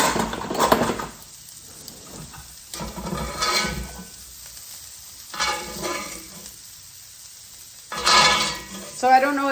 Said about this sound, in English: let's just get this out of the pan and get our onions caramelizing